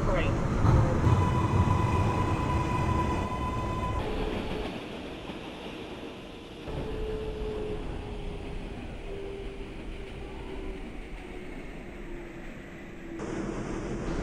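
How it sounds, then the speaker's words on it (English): An R142A subway train on the New York City IRT 6 line, running toward Brooklyn Bridge in the Openbve train simulator, gives a steady rolling rumble with a rising electric motor whine and tonal hums that continue throughout. "There's an R142A 5 train."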